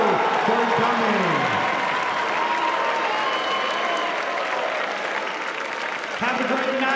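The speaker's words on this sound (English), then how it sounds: "Stand up, give them applause" Crowd at the C-Club Awards 2025 clapping steadily throughout, dense sustained applause with voices and cheering mixed in, staying loud from start to finish.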